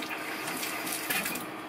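RV kitchen faucet spitting bursts of water and air while the plumbing is winterized, a steady hissing splutter with irregular sputters, close and fairly quiet, no talking.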